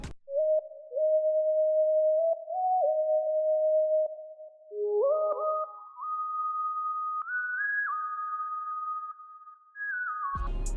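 A pure, smooth sine-wave synth lead in FL Studio plays a simple stepped melody, gliding between held notes, clean and bright with no other instruments or voices.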